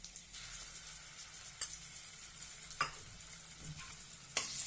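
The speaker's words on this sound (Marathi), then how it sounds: "आणि छानपैकी आपण हे तेलामध्ये परतून घेऊया।" Green chili, ginger and garlic paste sautéing in oil, a soft, quiet sizzle with a few sharp clicks of a spoon against the pan at scattered moments.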